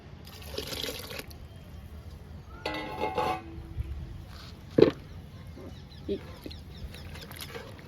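Homemade liquid plant fertilizer of egg yolk and kitchen-waste liquid is poured onto guava and lemon plants in several short splashing bursts, with quieter dripping between them.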